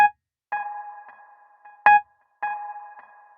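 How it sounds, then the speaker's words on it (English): Slate Digital Stellar Echo SD-201 delay on mode 7, a dotted eighth-note delay with spring reverb: clear tonal notes followed by repeating echoes that decay in a steady dotted rhythm, with a brief sharp transient in the middle and no talking. "Mode 7 is a dotted 8th note with a spring again"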